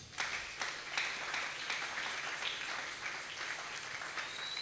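A church congregation applauding the Lord, a sustained, moderately distant round of many hands clapping with no voices over it.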